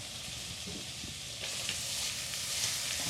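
Vegetables for a stew being stirred in a pot, with a steady sizzling hiss under scraping and clinking of the spoon, growing a little louder partway through; close and continuous, with no talking.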